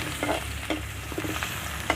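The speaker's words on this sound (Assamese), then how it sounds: "তাৰপিছত অকণমান ৰঙচুৱা হোৱালৈকে গোটেইখিনি মই ভাজি ল'ম।" Steady sizzling of ginger and garlic frying in hot oil, with a few soft scrapes of a spoon stirring the pan, close and continuous.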